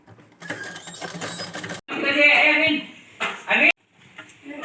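Sewing machine stitching fabric for a baby gown, bursts of fast whirring motor and needle clatter close by, starting and stopping in short runs with someone speaking between them.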